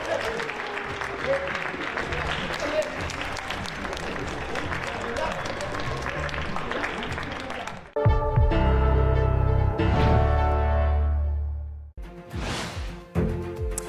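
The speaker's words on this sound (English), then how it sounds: "On les applaudit très très fort." Audience applause for the winners of a contest rolls on steadily for about eight seconds, then cuts into a loud, booming musical sting with deep bass that ends abruptly.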